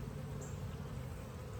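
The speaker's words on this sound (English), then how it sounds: "Don't be buzzing." Honeybees swarming around an open beehive during a keeper's inspection, a steady, dense, close buzzing drone that persists throughout with no talk.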